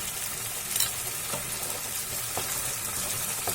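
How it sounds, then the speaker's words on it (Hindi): Ginger garlic paste sizzles in a hot pan while paneer butter masala is being made, with a steady close hiss, light crackling and occasional soft stirring scrapes, and no talking. "अब इसमें हम 1 टेबल स्पून अदरक लहसुन का पेस्ट डालेंगे।"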